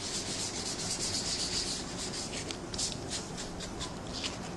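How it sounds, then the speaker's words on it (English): Ink lightly rubbed over faux brick embossing on a card tag, a soft continuous scratchy rubbing with short repeated strokes, close and steady. "I'm going to rub really lightly"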